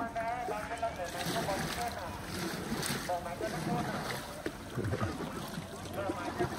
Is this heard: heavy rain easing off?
no